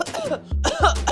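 An elderly woman gives a couple of rough, close coughs in quick succession, short and throaty with a brief pause between bursts.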